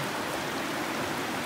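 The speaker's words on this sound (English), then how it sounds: "Oh no, I gotta forge the treacherous creek." Creek water flowing over smooth cobblestones in Olympic State Park, a dense, even rushing wash filling the clip, close and steady with no voices.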